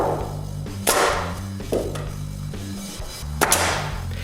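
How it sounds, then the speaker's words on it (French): Hammer blows drive nails into wooden end stakes being set for a concrete slab outside a workshop door, three sharp impacts spaced about a second apart over a steady low hum. "puis je les cloue en place"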